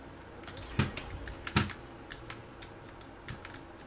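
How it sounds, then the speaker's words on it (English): Keystrokes on a computer keyboard during PC gameplay, with two sharp, loud hits near the start and sparser light taps following, irregular and close. "I hit the corner of my keyboard there"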